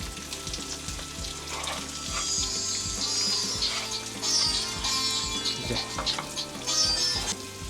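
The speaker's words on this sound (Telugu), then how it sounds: "ఇప్పుడు వాము జీలకర్ర ఫస్ట్ వేసేస్తున్నాను. తర్వాత ఆనియన్ వేస్తున్నాను" Ajwain, cumin seeds and onion dropped into hot oil for fried rice, an ongoing sizzle that swells in bursts with some stirring clinks, close and fairly loud, without speech.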